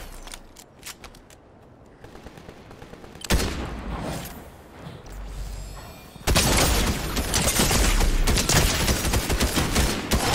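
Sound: gunshots in the video game Fortnite

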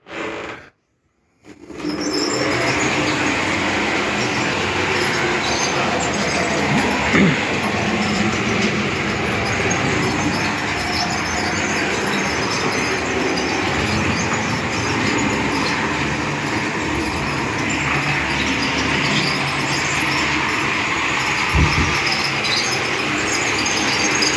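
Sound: model train set with tank cars running on a layout

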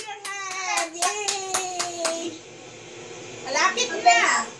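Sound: child clapping hands

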